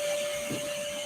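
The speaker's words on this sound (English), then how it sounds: "CEO's got the vacuum going." A vacuum cleaner runs steadily nearby, a constant loud whine with a sharp tonal hum and broad hiss, unbroken throughout and with no talking.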